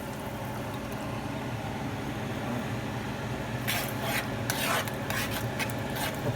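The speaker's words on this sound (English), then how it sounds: "So I'm gonna go ahead and add my coconut milk." Coconut milk going into a hot pan for Jamaican steamed red snapper gives a dense, continuous sizzle, with rough scraping stir bursts near the end.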